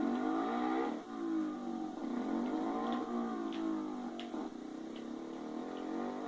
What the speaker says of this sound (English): And then you come out on a little fucking 50cc.